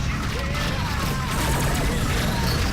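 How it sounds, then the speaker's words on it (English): Laser turrets and anti-aircraft guns fire during a Rebel Galaxy space battle, a dense continuous barrage of crackling blasts and rumbling booms with no pauses, with a voice partly under it. "my laser turrets are taking out one while I'm shooting at the other"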